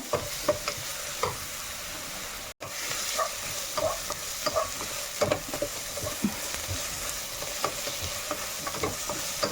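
Crushed ginger, garlic and curry leaves frying in a pan for a Kerala-style chicken curry, a continuous close sizzle broken by frequent scraping stir strokes and a brief dropout.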